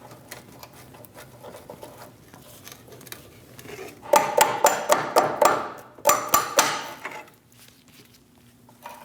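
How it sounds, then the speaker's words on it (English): A quiet run of light taps, then two loud clusters of rapid metallic strikes from a small soft face hammer driving a control arm bolt into place on a Chevrolet Silverado, fading back to faint tapping. "I'm going to use a small soft face hammer to help me install the bolt into place."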